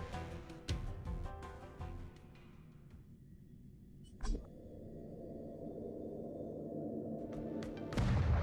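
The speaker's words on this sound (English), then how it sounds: "The Sky Splitter's gun salute is really loud." Sky Splitter's gun salute in the Honkai: Star Rail video game: heavy booming blasts, one near the start, a sharp one midway and another at the end, over a sustained low rumble.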